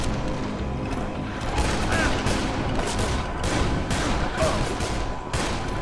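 Rapid gunfire from the zombie survival video game Dead Island, set in a supermarket, rattling in dense continuous bursts across the whole stretch with sharp repeated shot transients over a busy game mix.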